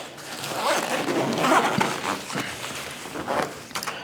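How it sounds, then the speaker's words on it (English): A backpack's large U-shaped zipper is pulled open in long, scratchy strokes, close and fairly loud, with fabric rustling throughout. "Now moving into the large U-shaped zipper."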